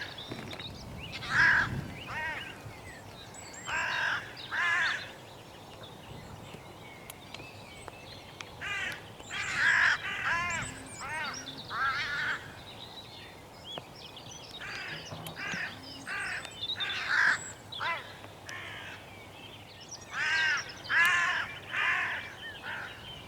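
Crows caw repeatedly in scattered bursts of two to four harsh calls, at moderate distance and fairly loud over a steady outdoor background, during a hunt with a .17 Hornet rifle.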